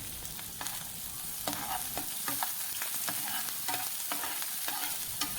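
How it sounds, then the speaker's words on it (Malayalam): Chopped onion, green chillies and curry leaves sautéing in a pan for bitter gourd thoran, a steady frying sizzle punctuated by repeated scraping stirs of the spatula, close and clear with no voices. "ചെറുതായി അരിഞ്ഞു വെച്ചിരിക്കുന്ന സവോളയും 3-4 പച്ചമുളക് ചെറുതായി അരിഞ്ഞതും കുറച്ച് കറിവേപ്പില ഇട്ട് വഴറ്റിയെടുക്കാം"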